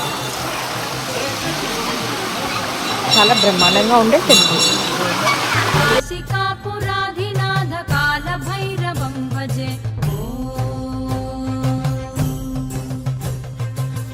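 Rushing water of a hill stream splashes and gurgles loudly for several seconds, then a person speaks over fainter water and background music.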